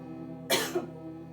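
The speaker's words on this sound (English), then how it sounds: "Apologies for my cough" A single short cough bursts out over a faint steady hum, followed by a smaller catch in the throat.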